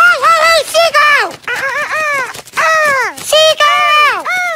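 A seagull calls in a run of loud, harsh, nasal squawks with short gaps between them, close by at a beach.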